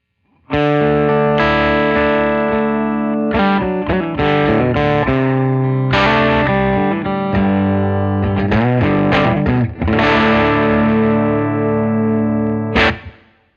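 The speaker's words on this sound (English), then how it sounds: "it's a really warm and natural overdrive" A D'Angelico Deluxe Atlantic electric guitar with humbuckers through a Supro Black Magick amp, with warm overdrive, plays a continuous riff of sustained notes and chords, loud and close with a slight shimmer.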